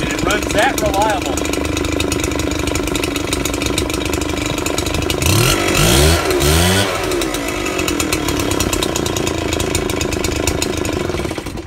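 A Redmax EBZ8500 backpack leaf blower's 2-cycle engine idles steadily and loudly throughout, a constant buzzing drone with a brief rising rev near the middle.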